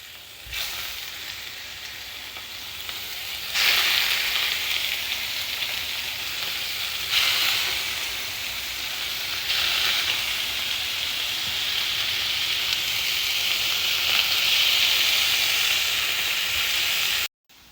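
Boneless pork ribs pan frying in a hot, smoking pan give a loud, steady sizzle and crackle that runs unbroken, with a few surges in intensity, and no voices over it.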